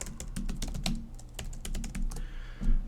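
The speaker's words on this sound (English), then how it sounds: "You can actually come in here and type in a web address," Someone types a web address on a computer keyboard. Quick, close key clicks come in an uneven rhythm with brief pauses, with no speech over them.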